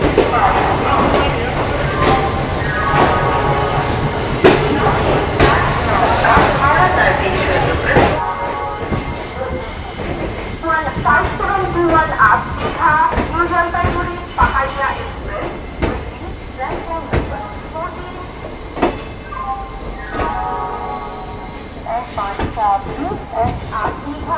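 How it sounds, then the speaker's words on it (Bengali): A long-distance train pulls out of Howrah station bound for Kalka, a steady rail rumble and rolling clatter going on throughout the clip, mixed with voices and busy station noise. "ট্রেন কিন্তু একদম নির্দিষ্ট সময় 9:55-তে ছেড়ে দিল হাওড়া থেকে কালকার উদ্দেশ্যে দীর্ঘ 29 ঘন্টার জার্নি।"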